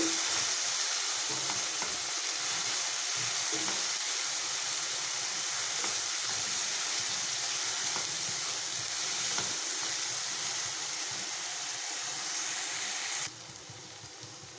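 A paste of ground coriander, garam masala and mint frying in oil, giving a steady close sizzle and hiss with light stirring scrapes, dropping off abruptly at the very end.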